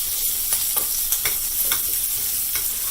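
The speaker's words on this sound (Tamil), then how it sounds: "நம்ம வேக வச்சுருக்கக்கூடிய சுண்டலை எடுத்து நல்லா மிக்ஸ் பண்ணிடலாம்" A spoon stirs boiled chickpea sundal through onions in a hot frying pan, a steady close sizzle broken by soft regular scraping strokes, with no voices.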